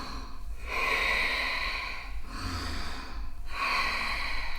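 Slow, steady breathing during yoga shoulder rolls: long airy inhales and exhales in a repeating cycle, close and fairly soft, with no talking.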